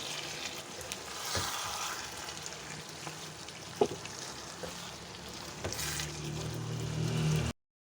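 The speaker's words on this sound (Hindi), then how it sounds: "और इसको हम अच्छी तरह मिक्स कर लेंगे।" Green beans and mutton sizzle in a pan while being stirred, a steady close frying crackle with occasional scrapes and clinks of the spoon.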